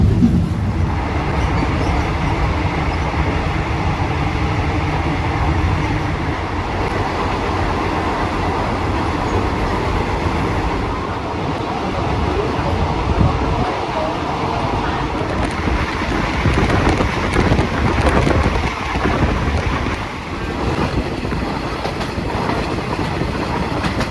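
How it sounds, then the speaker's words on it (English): A passenger train rolls along the tracks toward the Death Railway near Kanchanaburi, Thailand, a loud steady rumble with rhythmic wheel clatter heard from inside the carriage, with soft conversations mixed underneath. "the steady sound of the train on the tracks"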